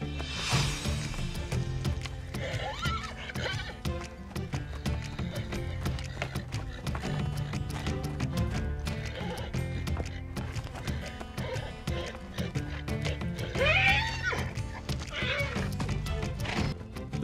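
Wild stallions fight, with neighs and whinnies rising over a steady bed of hoof thuds and scuffling, loud and continuous throughout, with a prominent squealing neigh near the end.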